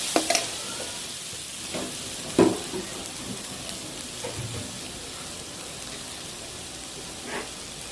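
Turmeric-spiced masala frying in a pan for masala idli, stirred now and then, giving a soft steady sizzle with a few louder scrapes of the spoon, close and alone without talk.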